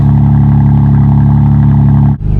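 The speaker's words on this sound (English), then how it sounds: "you can hear how much better the exhaust now sounds" BMW M4 G82 exhaust in Sport Plus mode, a loud, close, steady rumbling drone that holds its pitch before a brief dip and a return near the end.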